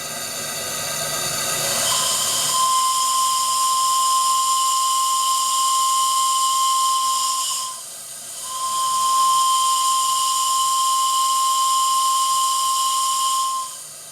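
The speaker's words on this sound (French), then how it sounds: "Vous remarquerez que ce superbe sifflet au son grave a une attaque très progressive." A deep-toned steam whistle on a model steam tug hisses at length, its tone swelling in gradually, briefly dipping, then resuming with a strong sustained pitch.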